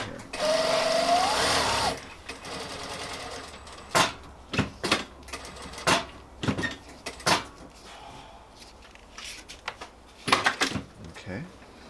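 A sewing machine runs in a short, loud burst of rapid stitching at the start, then gives way to scattered clicks and handling knocks while a person talks.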